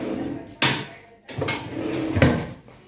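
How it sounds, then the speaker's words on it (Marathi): A metal kadhai is set down on a lit gas stove in a home kitchen, giving a few sharp clanks and scrapes close by, with short quiet gaps between them. "गॅसवर ठेवली कढई"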